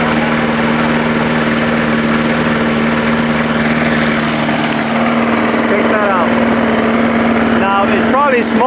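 A lawn mower engine with a custom exhaust muffler runs steadily at idle, a loud, close, even drone with a low hum throughout; a voice briefly cuts in near the end.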